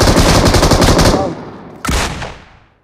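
Rapid machine gun fire rattles loudly in a video game for about a second, then a second sharp burst rings out and fades, with no talking.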